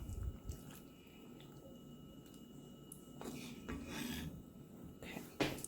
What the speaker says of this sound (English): I'm just going to mix this first so it gets really smooth